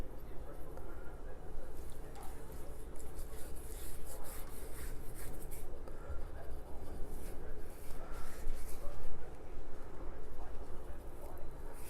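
Spice rub being patted and rubbed by hand onto pork spare ribs, soft repeated scraping and rubbing strokes at close range, under steady talk.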